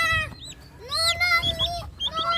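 A mother hen clucks and makes rising, tonal calls, loud and close, in a sequence of varied chicken vocalizations with soft rustling beneath.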